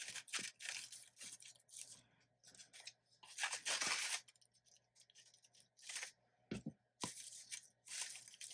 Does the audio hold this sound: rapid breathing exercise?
no